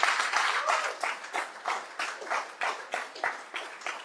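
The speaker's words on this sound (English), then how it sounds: "give our women a round of applause" Men at a party branch meeting clapping for the women, a moderate round of applause in rhythmic waves, some individual claps standing out, heard at a modest distance with no talk over it.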